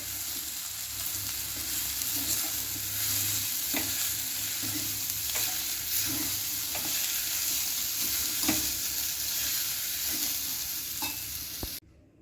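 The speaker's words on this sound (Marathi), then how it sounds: "हे सर्व व्यवस्थित आपण हलवून घेणार आहोत" Wild fig (umbar) frying in a pan, a steady close sizzle with repeated soft scrapes and taps as it is stirred, no voices.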